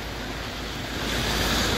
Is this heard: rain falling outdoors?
yes